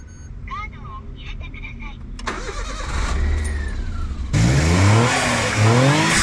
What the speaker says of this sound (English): So I'm gonna start the Alto now